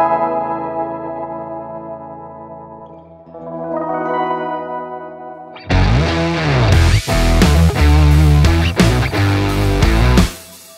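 Electric guitar through a Source Audio C4 Synth pedal set to a lo-fi tape warble chorus, with sustained wavering notes that swell into louder, pitch-bending strummed chords before cutting off near the end.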